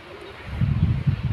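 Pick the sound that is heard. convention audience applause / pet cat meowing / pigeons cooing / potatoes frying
pigeons cooing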